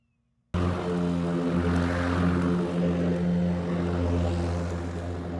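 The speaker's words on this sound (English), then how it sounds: "you can see here I'm going over the yard with the Ryobi mower" A Ryobi lawn mower set to its lowest setting scalps the grass across a yard. After a brief silence, its engine kicks in as a close, steady, droning hum with a slight flutter that holds until the end.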